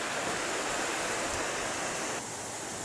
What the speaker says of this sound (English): you can see the gorge that the creek flows through